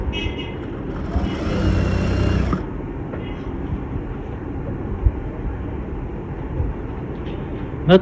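A sewing machine stitches a seam through fabric with elastic enclosed inside, making a steady, close motor whir that surges louder for the first couple of seconds, then runs on evenly with a few small knocks. No one talks.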